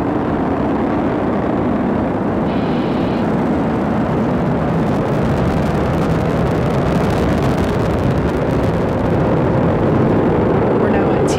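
A SpaceX Falcon 9 lifts off from LC-39A at Kennedy Space Center, its nine Merlin 1D first-stage engines producing a loud, continuous crackling roar that stays dense and steady throughout, with a launch commentator talking over it.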